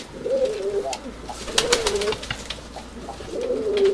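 Urfa Arab domestic pigeons coo nearby in low, throaty rolling calls, repeating at intervals with faint chirps and rustling in the background.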